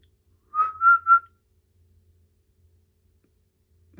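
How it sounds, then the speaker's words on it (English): A person whistles to emu eggs: a short, clear three-note whistle that rises slightly, close and alone in an otherwise quiet room. "But they are definitely responding to my whistle."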